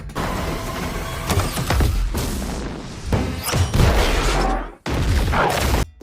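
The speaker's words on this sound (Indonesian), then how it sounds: "Mobil peserta lainnya juga ditembaki oleh mereka hingga meledak" A film scene of gunmen firing on rival cars during a race until one cabbage-laden car explodes: loud, dense bursts of gunfire and heavy booms crash one after another, briefly cutting out before resuming.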